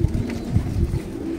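French meat pigeons coo in an indoor loft, with soft, low, rhythmic cooing repeating several times, close and fairly loud.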